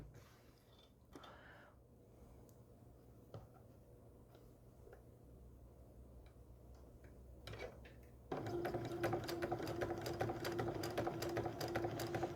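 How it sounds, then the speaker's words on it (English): A sewing machine stitching corner to corner across a quilt block starts up near the end with a steady close whir, after quiet handling taps and faint rustles. "we're going to sew the corner to corner,"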